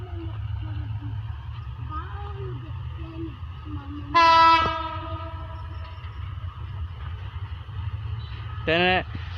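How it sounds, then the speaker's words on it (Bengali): A train horn blasts loudly for about half a second, then gives a second shorter honk moments later, over a steady low rumble of a passing train. People talk nearby throughout. "ট্রেন বাসি দিয়েছে, আপনারা সরেন সরেন"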